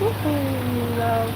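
Summer rain falls steadily in a soft, even hiss, while someone talks briefly over it and a faint tonal whistle drifts in the background.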